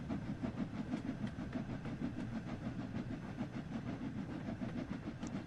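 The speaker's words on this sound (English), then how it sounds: "There's the proper steaming train sounds. That's how a train should sound." A steam locomotive runs in the Train Sim World 6 railway simulator, its steady rhythmic chuff and rolling rail clatter continuous and fairly loud throughout with no talking.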